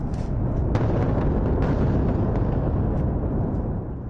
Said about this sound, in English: Loud explosions heard before daybreak Thursday across Beirut.